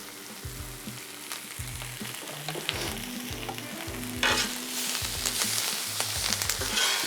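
Butter and vegetables frying on a hot grill beside Italian sausage links, a loud continuous sizzle with rhythmic scraping and stirring strokes, swelling to a fiercer hiss partway through.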